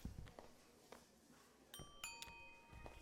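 A chiming ding-dong doorbell rings in the video game Kentucky Route Zero, two bright tones with lingering ring, faint and alone over quiet background.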